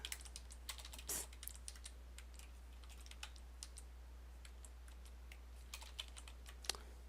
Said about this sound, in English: I do not know why I have such a hard time typing that word